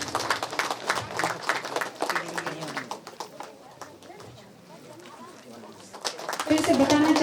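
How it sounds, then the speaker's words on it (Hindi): An audience applauds guests at the inauguration of a memorial statue at Yagrung. Scattered, uneven claps sound under a speaking voice, thin out midway, then swell louder at the end. "सभी तालियों के साथ सम्मानित करें।"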